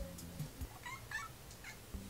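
A pet cat meowing indoors, several short, fairly quiet mews spaced across a couple of seconds in a calm room.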